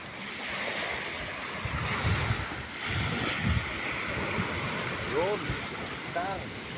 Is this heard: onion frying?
no